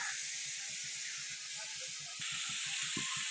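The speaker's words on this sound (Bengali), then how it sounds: "এখনও কষবে, এটা এখনও কষানো এখনও হয়নি" Boneless chicken cooking down in a pan, a steady loud sizzle and hiss throughout, close up, with faint soft stirring knocks underneath.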